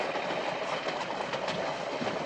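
A passenger train rolls along the tracks, a steady dense rumble with faint rhythmic clatter from the wheels, heard from inside, loud and continuous with no talk.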